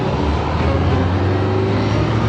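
A bus engine rumbles as the vehicle pulls away, a steady low drone with road noise, close and continuous, no voices over it.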